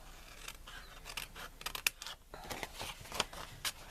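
Scissors cut through paper for a Stampin' Up! coffee candle holder craft, a series of quiet, close snips and crisp scratchy slices in an uneven rhythm, with no talking.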